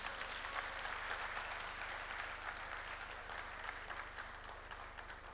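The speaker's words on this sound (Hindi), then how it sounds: "जरा जोर से ताली बजाइए सर" Sustained applause from an audience at a gathering, many hands clapping in a steady, dense patter that runs throughout at a fairly distant, low level over a constant low hum.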